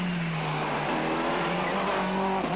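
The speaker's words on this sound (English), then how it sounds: "Rats now with his Megane having brake problems still. They keep locking up" A Renault Megane rally car at a 1997 French rally runs at full engine roar with brakes locking up, a steady loud drone marked by tire squeal and skidding tones.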